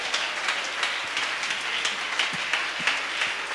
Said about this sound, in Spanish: Alguien quisiera darle un aplauso al Señor.